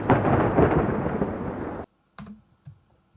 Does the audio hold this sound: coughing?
no